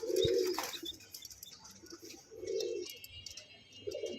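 Grizzle beauty homer pigeons coo in three separate low, throaty phrases spaced a couple of seconds apart, fairly close, with faint chirps and small rustles between them.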